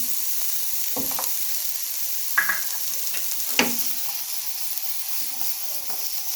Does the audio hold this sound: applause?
no